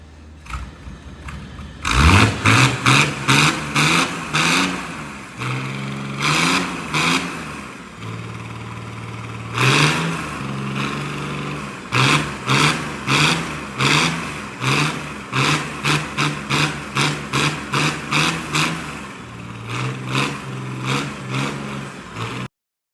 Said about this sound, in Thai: เป็นยังไงกันบ้างคะสำหรับเสียงเครื่องยนต์10ล้อ